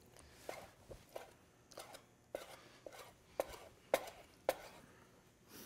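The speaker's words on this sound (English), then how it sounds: "We're gonna dice that up real quick." A knife dices lobster tail meat on a cutting board in a restaurant kitchen, giving a quiet, irregular series of sharp chopping taps, a few louder strikes near the end, with no talking.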